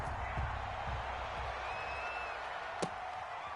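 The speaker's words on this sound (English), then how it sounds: "This crowd is ready as their guys get set to match up between the Pittsburgh Steelers and the Buffalo Bills." Stadium crowd noise fills a Pittsburgh Steelers versus Buffalo Bills football video game, a dense steady murmur and cheering wash with one sharp thud partway through, sitting low and constant in the background.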